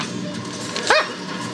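A single short dog bark or yelp in the Resident Evil: The Umbrella Chronicles video game, set aboard a train, sounding once near the middle over steady game background noise.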